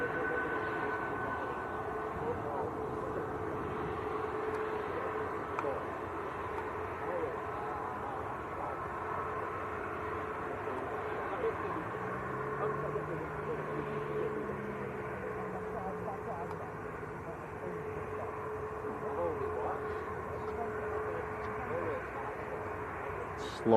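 An IndiGo Boeing 787-9 Dreamliner lining up at Manchester Airport gives a steady, distant jet-engine whine and rumble for over twenty seconds, with a faint low shift midway and someone speaking at times.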